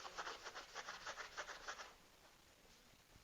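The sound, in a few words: rag rubbing wax off a painted surface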